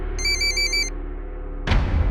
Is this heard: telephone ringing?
yes